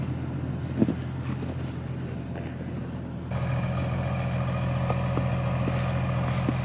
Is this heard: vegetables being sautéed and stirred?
no